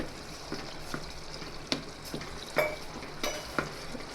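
Garlic chutney cooking in oil at the side of a pan of green pigeon pea curry, a close soft sizzle punctuated by several sharp stirring scrapes and taps, with no talk.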